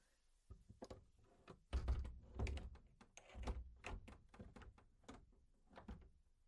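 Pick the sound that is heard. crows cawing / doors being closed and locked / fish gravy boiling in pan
doors being closed and locked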